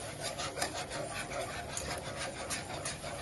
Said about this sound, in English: We're going to add our milk. And continue to whisk or stir.